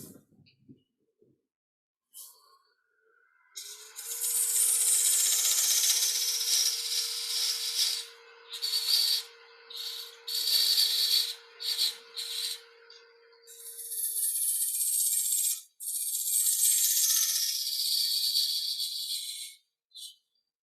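Wood being turned on a lathe with a gouge, working down into an indentation, a close hissing, scraping cut running in long strokes broken by short stops and a steady faint motor hum underneath.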